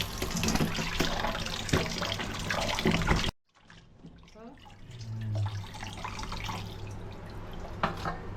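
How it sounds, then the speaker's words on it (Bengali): Running tap water washes beef in a kitchen, a loud steady gush that drops to a quieter trickle and splashing partway through. "প্রথমে গোশতটাকে ভালো করে ধুয়ে নিতেছি"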